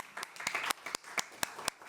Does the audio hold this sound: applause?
yes